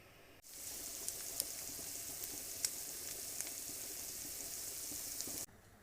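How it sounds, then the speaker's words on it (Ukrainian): Steady crackling sizzle of sauerkraut frying in hot oil, close and even, with a few small pops and no talking. "Промиту квашену капусту для капусняка смажимо на олії"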